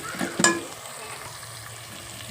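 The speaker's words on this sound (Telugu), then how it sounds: "వేగినాయి కదా బాగా ఉల్లిపాయ కూడా వేగిపోయింది" Onions frying in hot oil for a crab and egg curry, a steady close sizzle with a brief clatter of stirring near the start and another stir at the end.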